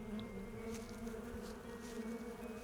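A steady drone of buzzing insects fills the game Sucker for Love: Date to Die For, low and continuous, faint but unbroken throughout with no voices.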